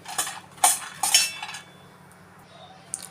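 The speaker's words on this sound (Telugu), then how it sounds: "ఇవి ప్లేట్లో వేసుకుంటానండి" Roasted nuts tip onto a plate with a few close, bright clinks and light rattles of dish and spoon, and then a quieter pause.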